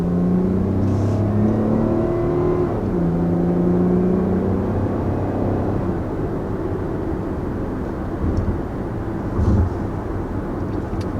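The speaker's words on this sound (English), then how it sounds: "first accelerating here in the 2020 Lexus RX" A 2020 Lexus RX 350 F-Sport SUV accelerates, heard from inside as a smooth, steady engine drone that rises gradually in pitch with constant road and wind noise, no talking.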